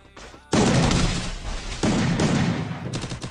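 Close, loud gunfire fills an online 4v4 shooter match, heavy blasts from a 12-gauge shotgun booming in dense overlapping bursts with a brief lull before the shots resume.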